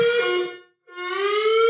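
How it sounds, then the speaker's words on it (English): A building fire alarm sounds with two loud, steady electronic tones separated by a brief gap, harsh and buzzing, with no voices over it. "Oh my God, it's a fire alarm!"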